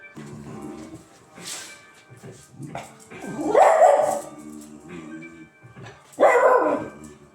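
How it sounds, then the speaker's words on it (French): A small dog yaps and barks a few times, close and fairly loud, with some short whiny yips between the bursts. "c'est mon petit chien caramel."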